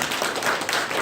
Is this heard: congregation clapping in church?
yes